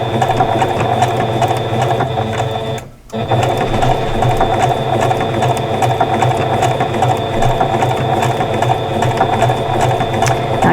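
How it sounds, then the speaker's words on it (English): A sewing machine runs loud and steady, stitching a quilt block embellished with Angelina fibers. Its fast mechanical whir drops out for a moment of near silence, then resumes and continues without a break. "this machine would go over it real easily with that foot on it"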